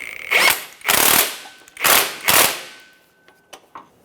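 Ratchet snugging a transmission mount bolt on a 2007-2017 Jeep Patriot, four loud close bursts of rapid clicking separated by short pauses, then a few lighter clicks at the end.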